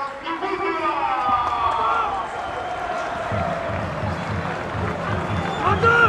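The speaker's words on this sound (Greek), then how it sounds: "Θερμό χειροκρότημα" Stadium crowd at a Kerkyra versus Veria football match applauding a substitution, a steady, moderately loud wash of clapping and crowd noise from the stands that continues throughout with a slight rise at the end.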